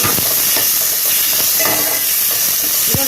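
Chopped tomatoes dropped into a hot pan and sautéed for a cauliflower capsicum gravy, loud continuous hissing steam and sizzle up close, with occasional scraping of the spoon against the pan.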